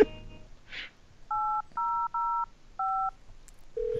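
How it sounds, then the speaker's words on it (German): Four touch-tone beeps as a phone number is dialed in the video game Thimbleweed Park, short evenly spaced tones, followed by the start of a steady ringing tone, with a faint background hum. "Aber ruf mal die 8005 noch an."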